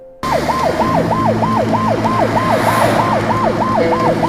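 A loud, close ambulance siren wailing in a rapid rising-and-falling pattern, repeating steadily over a rumbling vehicle engine.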